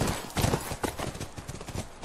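Horse hooves clip-clopping in the video game The Last of Us, a run of uneven thuds at a walking pace over quiet ambience, with no talk.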